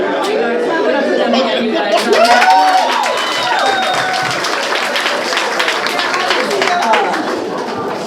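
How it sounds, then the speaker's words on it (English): A comedy club audience applauds two roast battle comedians, with steady close clapping, cheers and lively crowd chatter that swell briefly and then hold for several seconds. "One more round of applause for these two"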